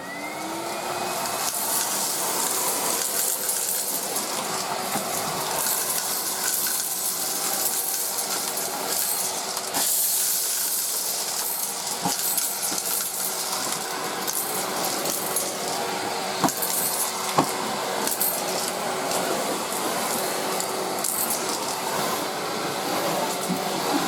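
A Numatic Henry Cordless HVB160 cylinder vacuum runs at full power as a continuous, loud, broadband roar, with occasional small clicks and rattles of debris being picked up throughout.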